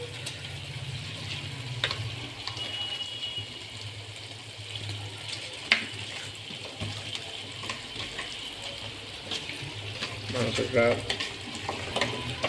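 Marinated country chicken hits hot spiced oil in a kadai, sizzling and frying steadily up close, with occasional stirring clatters and a faint voice in the background.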